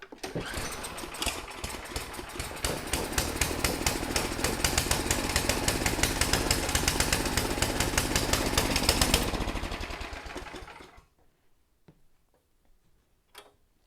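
An old, heavily rusted engine that sat outdoors for years is started with the choke on and runs with a rapid, loud mechanical clatter for about nine seconds before cutting off, leaving near silence.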